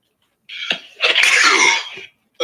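A single loud, close sneeze bursts out over a live Magic: The Gathering Online gameplay session, with a short breathy lead-in followed by a longer explosive blast, then silence before another sound starts.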